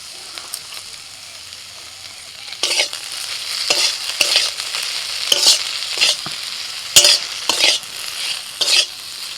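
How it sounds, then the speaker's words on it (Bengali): Okra stirred and fried in a pan, a steady sizzle broken by repeated bursts of scraping from a spatula at close range, with no talk. "ঢ্যাঁড়সটাও ভালো করে নাড়াচাড়া করে নিয়েছি"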